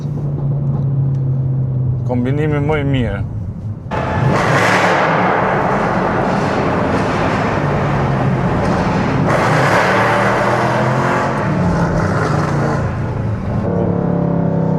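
A Mercedes C63 AMG's engine rumbles steadily and loudly, with brief revving swells, running continuously under a voice for about fifteen seconds.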